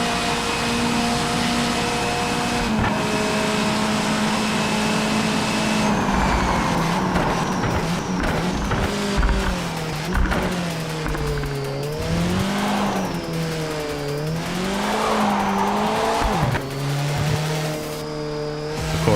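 A race car screams through gears in a VR racing video game, the engine whine rising and falling in pitch through repeated shifts and corners, with tire squeal mixed in.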